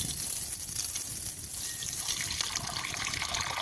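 Water runs from the spigot of an IBC tote in a steady, close splashing flow that stays continuous and even throughout, with no talk over it.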